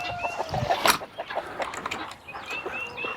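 A hen clucks and squawks nearby in short bursts, with other birds chirping faintly in the background.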